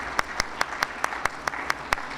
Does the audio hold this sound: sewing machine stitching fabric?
no